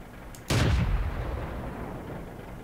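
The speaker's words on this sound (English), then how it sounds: "Great arty shot." Artillery fire in the World of Tanks video game: a single sharp, loud boom that cracks out suddenly and then fades into a long rumbling tail over quiet background ambience.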